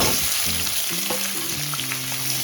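Cut potatoes and kohlrabi fry in hot oil, a steady close sizzle running throughout with faint low background tones underneath.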